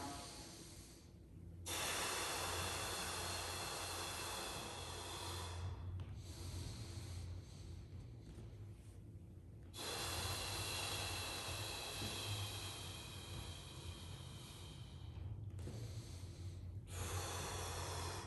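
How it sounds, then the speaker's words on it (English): Forceful pressurized exhales and nasal inhales during a hip lift march exercise, long hissing breath rushes alternating with short gaps, close and fairly loud, repeating in a steady cycle. "Pressurized audible exhales, nasal inhales."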